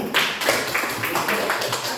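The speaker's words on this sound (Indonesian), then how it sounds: "Oke, tepuk tangan buat Rian." A class claps for a student named Rian, a brief ragged round of hand claps, moderately close, with light voices mixed in.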